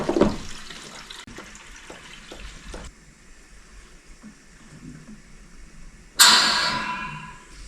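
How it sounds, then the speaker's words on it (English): Water trickling from pipes into a bucket in an abandoned home, a faint, steady splashing with a few soft knocks, then a louder hissing gush near the end. "I don't know why it's really disturbing sound to hear water trickling."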